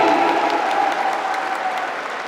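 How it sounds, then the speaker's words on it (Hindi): Hall audience at a business anniversary event claps loudly for a mentor's introduction, a dense, sustained wash of applause that fades slightly toward the end, with no speech over it. "जब सर का नाम आए तो एक बार जोरदार ताली बजाइएगा आप सभी लोग"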